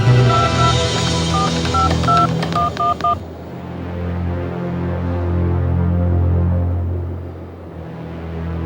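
A touch-tone telephone keypad is dialed in a crime drama scene, a quick run of about eight distinct beeps in uneven rhythm over a low background hum, then only the hum continues.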